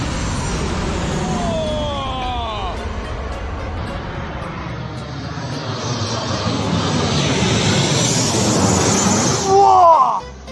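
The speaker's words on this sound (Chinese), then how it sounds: "现在正好有一架飞机在缓缓地朝我这个方向飞过来。" A fixed-wing airliner on landing approach passes low overhead while the listener stands under the flight path during a cycling trip from Quanzhou to Xiamen, its engine roar swelling from a distant rumble to loud and close, with a car and a voice briefly heard.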